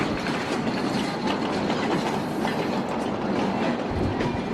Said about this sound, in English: You get on the train while it's still moving.